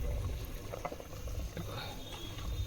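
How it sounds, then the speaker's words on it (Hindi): A low, steady bubbling and simmering from a pot of water on the boil for biryani rice, soft and continuous, with no one speaking. "खौल भी आ गई चावलों में।"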